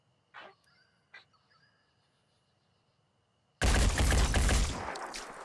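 Gunfire aimed at a bandit in the Phoenix Point video game: two brief sharp sounds, then a loud, sustained burst of shots that runs on to the end with little decay.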